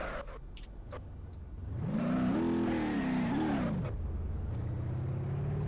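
A pickup truck in the BeamNG crash-simulation game revs up with its engine tone rising, wavering and falling over a couple of seconds, then settles to a steadier drone, loud and close, with brief knocks near the start.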